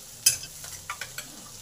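Ground ginger, cumin and mustard spice paste stir-fried in a pan with cooked potato, onion and drumstick stalks, giving a soft sizzle with a few clear scraping stirs of a spatula, close and fairly quiet.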